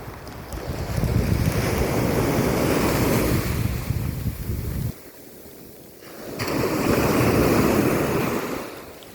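Sea waves surge and wash onto the shore under strong gusting wind, a loud roar that briefly eases before building again, heard on a drizzly coast while setting crab nets.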